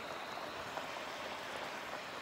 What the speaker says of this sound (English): This is the water starting to boil.